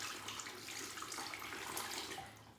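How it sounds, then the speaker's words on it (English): Water runs from a tap into a measuring container for sourdough bread dough, a soft continuous splashing trickle, quiet and steady with no talking. "So the first thing I do is measure out the water."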